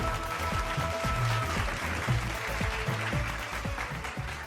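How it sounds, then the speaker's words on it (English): Audience applause at an award ceremony fills the hall, dense and steady for several seconds and mixed with loud rhythmic music. "Let's give them a big round of applause."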